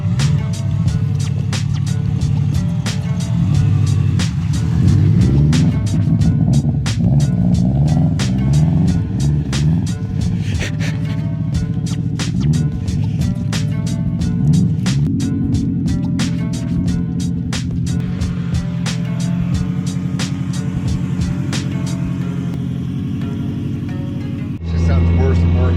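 A Subaru WRX engine runs steadily while the car drives through snow, a rough, continuous rumble that lasts throughout, with people talking over it.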